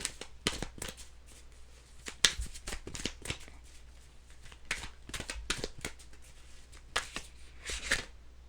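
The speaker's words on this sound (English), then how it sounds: "Three more shuffles." Tarot cards shuffled by hand, with repeated short crisp riffles and taps in irregular bursts, close to the listener, quiet overall and heard alone without speech.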